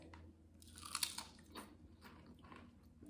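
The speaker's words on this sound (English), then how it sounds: "They have a good crunch to them." Homemade keto low-carb tortilla chips crunch close up as someone bites and chews them, a run of crisp crackling bites and munches, quiet and alone.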